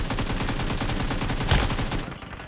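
Rapid automatic gunfire from BGMI fires as a dense, unbroken burst of shots, loud and close, with one heavier blast near the end before it cuts off.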